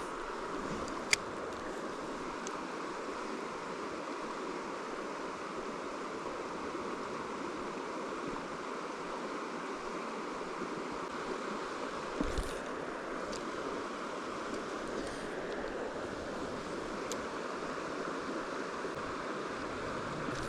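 Small trout creek flowing steadily, a constant broadband rush of water that holds even throughout with no voices.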